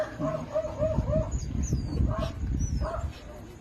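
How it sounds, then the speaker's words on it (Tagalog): Dogs yip and bark repeatedly in short bursts some distance away, while a person talks over them close to the microphone. "tumatahol lang aso sa labas pero walang gumagaya"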